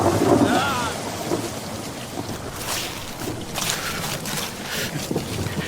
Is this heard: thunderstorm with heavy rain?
yes